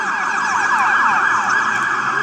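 An emergency vehicle siren wails loudly and continuously at close range, its rapid rising and falling sweeps filling the whole clip without pause.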